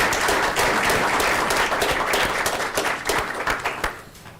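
An audience claps in a steady burst of applause at a county Board of Supervisors meeting, loud at first and then thinning into scattered claps before dying away.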